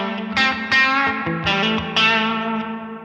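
An electric guitar played through a Line 6 Helix with a big reverb rings out in a handful of loud plucked chords about half a second apart, each trailing into a wide, washed tail.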